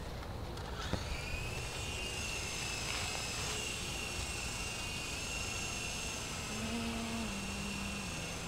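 A remote-controlled helicopter flies in the dark, its steady high whine and rotor buzz holding close and continuous throughout, with a brief lower tone shift near the end.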